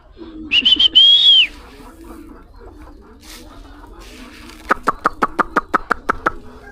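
Pigeons at a racing pigeon loft: an opening rising whistle and low cooing murmur, then a quick run of about a dozen sharp, evenly spaced flaps or clacks, close and fairly loud.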